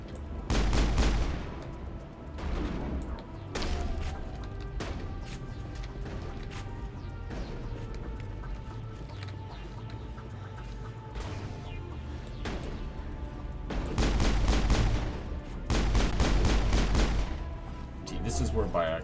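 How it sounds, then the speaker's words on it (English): Gunfire in a Mass Effect battle on Virmire, with repeated bursts of rapid automatic shots, heaviest at the start and again in long sustained volleys near the end, over a steady battle din. "I'm being shot in the back by my teammates."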